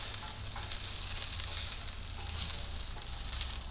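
Onions sizzling on a hot gas grill with the burners on high, a steady close hiss and crackle with small pops, under a low background rumble and no voices.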